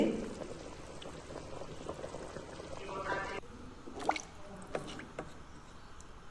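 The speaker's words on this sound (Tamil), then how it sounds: "நல்லா கொதிக்குது" Water for chicken biryani bubbles in a cooking pot with the chicken, a quiet, close simmering with small pops and a few sharp splashes or clinks.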